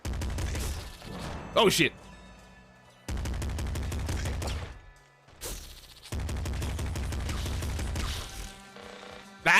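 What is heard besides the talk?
machine gun firing in a video game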